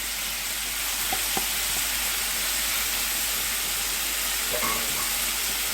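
Green peppers go into a pan with sausage and garlic and sizzle and crackle steadily, a close, even frying hiss with a few small pops and stirring clicks.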